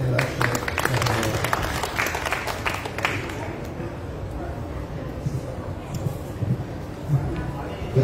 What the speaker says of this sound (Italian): fate un bel applauso